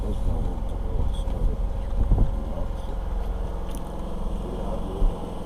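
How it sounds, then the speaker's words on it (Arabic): Wind blows steadily outdoors, buffeting the microphone with a low rumbling roar and occasional gusts, and faint voices are heard underneath. "في هوا بس مش ساعة."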